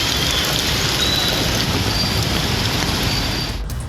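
Heavy rain from Cyclone Ditwah pours steadily on flooded streets in Chennai, a dense, loud, continuous wash with no pauses or voices until it cuts off near the end.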